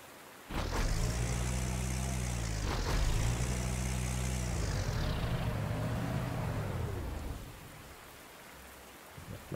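Propeller aircraft engines in the World War II strategy game Panzer Corps 2, set in Norway, drone loudly with rising and falling sweeps as planes pass, fading to a quieter hum toward the end, with no talk.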